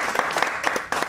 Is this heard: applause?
yes